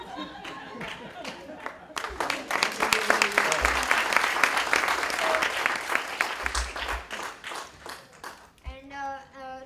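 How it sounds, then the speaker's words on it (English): An audience claps for a speaker: talk first, then a burst of lively, sharp applause with scattered chatter and light laughter, easing off before a voice resumes at the end. "And round of applause for the new speaker."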